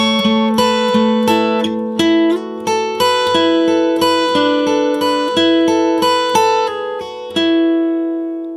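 Acoustic guitar plays the second tablature line of a song, a steady run of bright plucked notes and ringing chords, close and clear with no talking.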